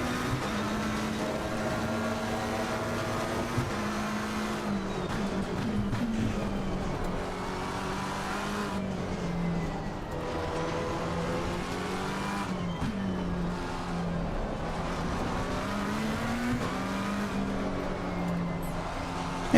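A McLaren 720S GT3 race car in Assetto Corsa Competizione at Paul Ricard revs hard through the gears, the engine note rising and falling repeatedly as it accelerates and drifts, loud and continuous with no talk.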